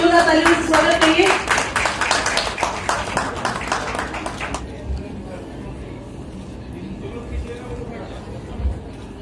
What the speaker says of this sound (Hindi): सबका जोरदार तालियों से स्वागत करिए।